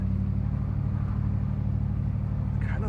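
A Ram 1500 pickup on 37-inch Nitto Trail Grappler tires crawls along an off-road trail, giving a steady low engine rumble with tire crunch close by and a brief voice near the end.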